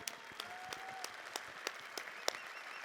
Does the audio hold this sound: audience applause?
yes